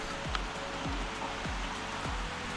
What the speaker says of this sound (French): Et en plus aujourd'hui il pleut